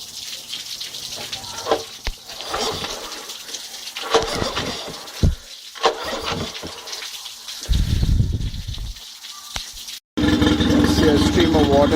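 Mercury outboard motor pulled to start on a service stand, with fumbling mechanical clatter, then a loud steady engine roar kicking in near the end after a brief gap, close and continuous alongside gushing water.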